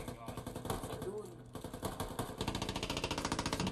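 A vehicle engine in the Squad military video game, a rough rhythmic mechanical rattle that grows faster and steadier toward the end, heard at moderate level.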